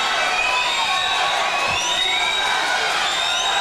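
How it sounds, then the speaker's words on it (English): Fans at a conference swimming championship cheer loudly and continuously inside the Kingsport Aquatic Center, a dense roar of shouts and whoops echoing through the indoor pool hall. "Fans are cheering them on here at the Kingsport Aquatic Center"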